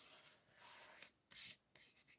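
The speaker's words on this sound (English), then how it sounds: "I want to fold and burnish my card base" A bone folder scrapes along paper while folding and burnishing a card base. Soft, close rubbing strokes come in a few short passes, with brief quiet gaps between them.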